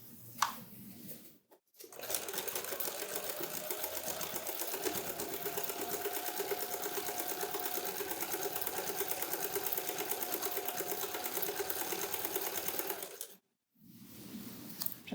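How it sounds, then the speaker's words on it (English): A sewing machine stitches steadily down one side of a mitt through four layers of fabric, running continuously for about eleven seconds after a short pause, then stopping briefly before restarting. "you're going to sew straight down one side. You want to make sure you're getting all 4 layers"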